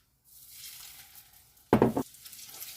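Zucchini slices frying in a pan on a gas stove, a steady soft sizzle broken by a loud, brief crackling burst partway through as food is stirred or added, then settling back to sizzling.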